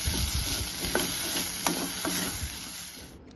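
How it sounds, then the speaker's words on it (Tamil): Potatoes and onions sautéing in oil in a pan, a soft steady sizzle broken by a few distinct spatula scrapes and stirring knocks, close up with no voices. "உருளைக்கிழங்கு நல்லா சாஃப்டாக வர வரைக்கும் இதில் நல்லா வதக்கிக்கணும்"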